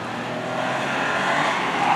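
A yellow car in a gymkhana event on a paved course accelerates hard at full throttle, its engine roaring loud and close and climbing steadily with no talk.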